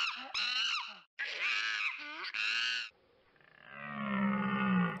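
A tamarin monkey gives a few loud, shrill, wavering squeals in quick bursts, followed by a longer sustained tonal call.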